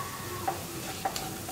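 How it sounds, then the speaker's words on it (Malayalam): Curry leaves being stirred into a simmering vegetable curry in a pan, with a steady soft sizzle and a couple of light utensil taps against the pan. "കറിവേപ്പിലയും കൂടി ചേർത്ത് നന്നായിട്ടൊന്ന് ഇളക്കി"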